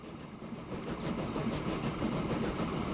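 A train in the game Transport Fever 2 on a USA rust belt map, a low steady rumble of rolling wagons with faint rhythmic clatter, moderately quiet and continuous, no talk.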